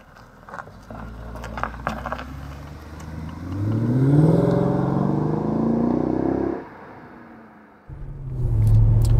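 A Mercedes E63 AMG W211 with a big V8 revs and accelerates hard, a deep rising roar that swells for several seconds, drops off, then surges again close by.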